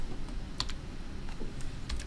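Keys clacking on a computer keyboard in short, irregular bursts of a few strokes, close and fairly quiet over low room hum.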